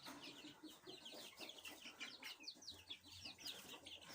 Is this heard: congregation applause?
no